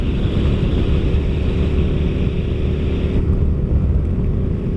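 A small vehicle with a roughly 3-gallon tank cruises at a steady 70 miles an hour, its loud, continuous low engine and road rumble mixed with wind noise, easing slightly near the end.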